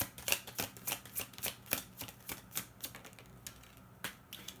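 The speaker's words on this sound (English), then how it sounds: "let's pull a couple more angel cards." Angel cards are shuffled and pulled, making a rapid series of crisp flicking snaps and riffles, close and clear with no talk.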